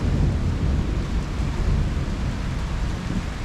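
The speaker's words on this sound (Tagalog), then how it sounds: "Malakas na ulan." Heavy rain falling at home in Italy, a dense steady roar with deep low rumbling of thunder underneath throughout, no voices.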